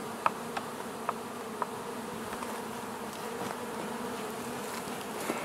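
A dense, steady buzzing of many honey bees humming together inside a hive, close and continuous, with a few faint clicks.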